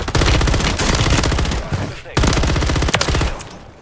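BP50 rifle fire in Call of Duty Warzone: loud, rapid automatic bursts with dense repeated shots, a brief pause near the middle, then another sustained burst tapering at the end.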